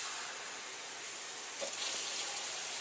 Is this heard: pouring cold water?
yes